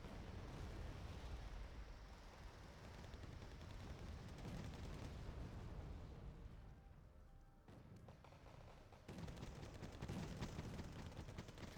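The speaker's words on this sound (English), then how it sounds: "it's a bombing run, I believe" Explosions from a bombing run in the video game Wargame Red Dragon rumble faintly and continuously as a low, muffled barrage with scattered bursts, and no one speaks over it.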